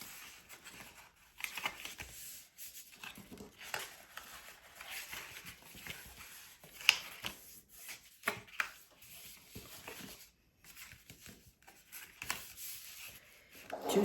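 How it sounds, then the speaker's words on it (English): Paper for a large envelope-style card folded along dotted lines, quiet intermittent creasing, rubbing and crinkling with irregular soft taps, close and low in level. "Fold on all of the dotted lines."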